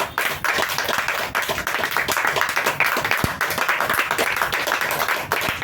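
A room full of people claps for the leader, with dense and steady applause that stays loud and fairly close from start to finish, and a few voices come through faintly underneath.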